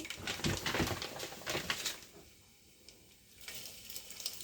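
Mustard seeds crackling in heated oil, a lively patter of small pops and sizzle at first that thins out midway and then picks back up more sparsely, fairly close and moderately loud.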